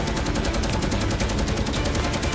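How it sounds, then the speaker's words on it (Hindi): Rapid, continuous bursts of heavy automatic gunfire from FW-190 fighters' 20 mm cannons and machine guns attacking a B-17, dense and loud, blending into a relentless rattling roar. "FW-190 अपनी 20 mm तोपे और मशीन गन दागते हैं"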